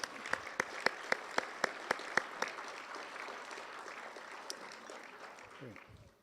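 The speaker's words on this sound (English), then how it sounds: "let's first give a big round of applause for the meal we just received to the Jasper Park Lodge staff" At a conference dinner, an audience applauds the Jasper Park Lodge kitchen staff for the meal. One sharp, evenly spaced clap leads over a soft spread of crowd clapping, and the whole sound is faint and fades out by the end.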